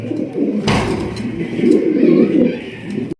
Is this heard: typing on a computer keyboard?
no